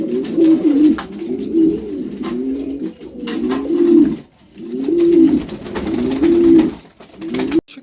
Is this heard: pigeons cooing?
yes